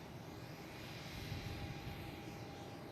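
A JetBlue airliner at Boston Logan International Airport, a steady, fairly distant roar of jet engines that holds level throughout with a slight swell in the middle.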